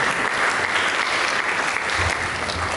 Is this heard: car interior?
no